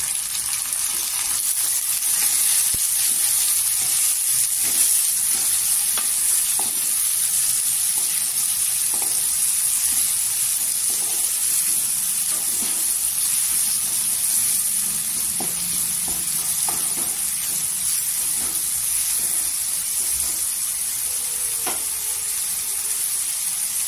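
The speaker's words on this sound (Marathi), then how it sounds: "टोमॅटो टाकून घ्यायचा आणि तेलावर छान असा परतून घ्यायचा" Tomato sautéing in hot oil for a drumstick masala curry, a steady, even sizzle and frying hiss that runs throughout with no talk over it.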